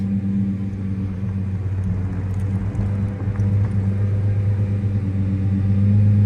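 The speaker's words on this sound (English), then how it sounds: "You can hear it idling" A steady, low engine idle hums continuously at close range, with no revving or change in pitch throughout.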